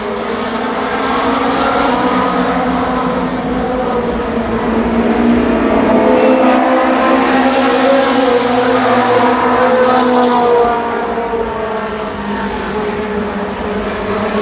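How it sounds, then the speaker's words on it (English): Twelve ARCA Pro 4 race cars roar around the Columbus Motor Speedway oval, a loud, sustained engine drone that rises and falls as the field passes, with no break in the noise. "Bill Hartman continues to pace the 12-car field."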